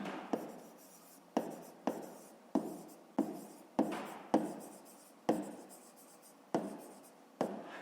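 A pen writes by hand on paper during a fifth-grade maths exercise, making a series of sharp strokes and scratches, about a dozen distinct marks spaced evenly, close and alone.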